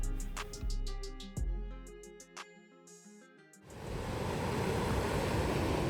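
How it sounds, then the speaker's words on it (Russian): Surf breaking on a beach in Gran Canaria, rising from about four seconds into a loud, steady wash of roaring water after a quieter stretch with other sound. "А здесь волна."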